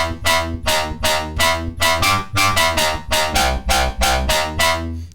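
Serum synth bass in a UK bassline style, played as punchy filtered stabs in a steady bouncing rhythm, bright and loud with a heavy low end, alone without talk.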